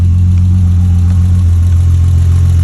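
A 1988 BMW E30 325i engine runs at a steady idle, close and loud, with a constant low droning hum and no change in pitch, heard alone without talk.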